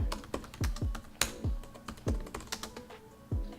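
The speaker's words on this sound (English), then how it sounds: "I'm typing it in right now." Fingers tap quickly on a computer keyboard, producing a close, irregular run of sharp clicks and clacks with short pauses between bursts.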